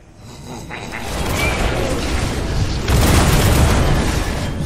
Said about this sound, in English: Your bombard has been destroyed.